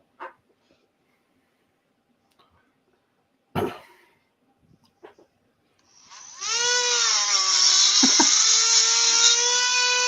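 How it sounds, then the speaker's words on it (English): A Dremel rotary tool spins up after a few scattered knocks and a brief thump, settling into a loud, steady high whine that holds for the last four seconds. "A very versatile tool, the Dremel."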